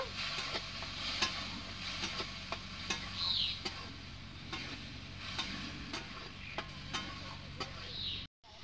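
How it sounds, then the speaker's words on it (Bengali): Peanuts fry in a pan with onion and garlic paste, giving a steady faint sizzle with regular light clicks and scrapes of a stirring spoon, close and without talk. "চীনা বাদাম দিচ্ছি আমি বন্ধুরা। এটাকে আমি তো খুব ভালোভাবে এখন ভাজিয়ে নেব।"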